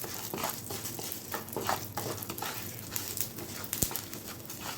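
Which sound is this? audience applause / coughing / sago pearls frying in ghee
sago pearls frying in ghee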